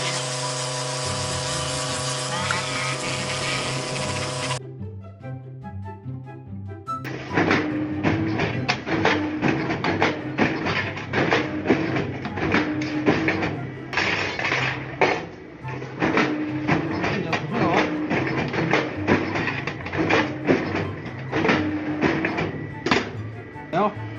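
A roof cleaning machine runs steadily on a construction job, a dense mechanical clatter and rumble with rapid irregular knocking that keeps going throughout, preceded by a short passage of tonal music at the start.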